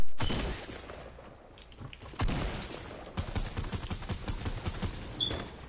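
Rapid gunfire from a shooting video game, with bursts of automatic fire and single shots packed densely across the whole stretch, loud and close with no talk over it.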